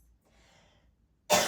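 A single sharp cough bursts out near the end, close and loud, after near silence and faint breathing during a yoga class.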